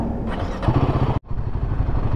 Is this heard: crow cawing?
no